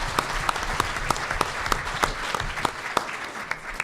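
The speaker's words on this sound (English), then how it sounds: "Let's give Aaron Petternitz a round of applause." Audience applause at a State of the City presentation at Hager Hall, a steady wash of many hands clapping with a few sharper individual claps standing out, moderately loud in a hall setting.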